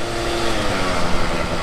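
An Aprilia SR 50 Motard 50cc scooter engine revs continuously while riding on a closed-off track, a steady buzzing drone held loud and close throughout.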